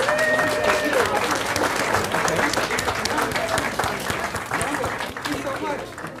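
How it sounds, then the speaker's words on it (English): Loud, sustained applause from the audience at a school board meeting, dense clapping holding steady throughout with some cheering and voices mixed in. "Let's give them a round of applause"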